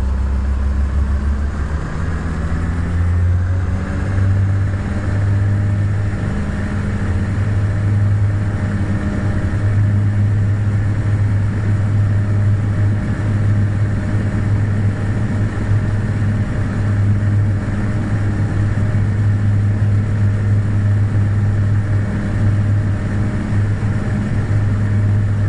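A propeller aircraft engine in a flight simulator game, revving up toward full throttle for takeoff, a loud steady droning hum with a low tone that rises slightly early on and then holds, with no talk.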